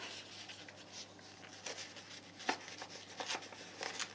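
Paper tears in a few quiet, short ripping bursts while a Moroccan-style accordion journal cover is being worked on, close and soft with no talking.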